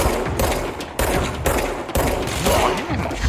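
Gunfire in the video game Control: dense, loud bursts of automatic shots repeat in several volleys across the clip, with game effects mixed underneath.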